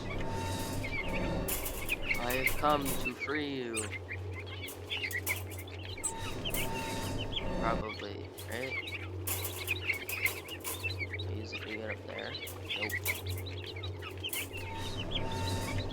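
Baby crows chirp and squawk nonstop in the video game White Shadows, high, clustered cries layered over a low droning score while someone talks throughout.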